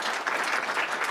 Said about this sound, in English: You're still clapping